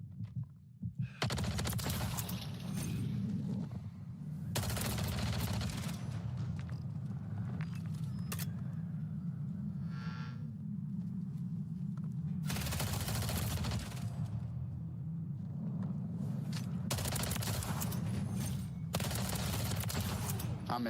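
Bursts of Black Ops 6 gunfire come in loud, dense volleys, several rapid automatic strings separated by short gaps over a steady low rumble of in-game ambience.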